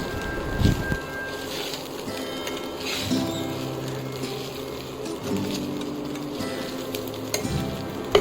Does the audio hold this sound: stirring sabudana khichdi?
yes